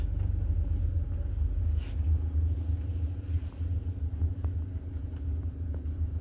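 A car pulls away in first gear as the clutch is eased out slowly during a driving lesson, giving a continuous low engine rumble from inside the cabin with a few faint clicks and no talk.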